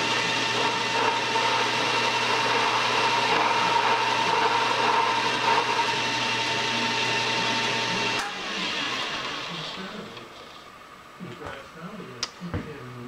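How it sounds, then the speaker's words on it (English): A lathe cuts a chamfer on the outside edge of a threaded metal workpiece, a steady loud machining whir with a tonal hum for about eight seconds, then stopping and leaving quieter clicks and handling noises. "Let me get a chamfer on this outside edge here."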